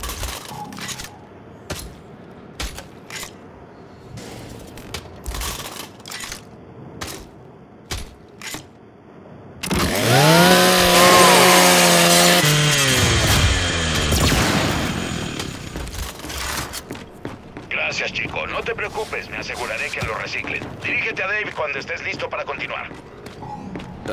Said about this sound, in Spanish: Usa la motosierra de tu Lancer.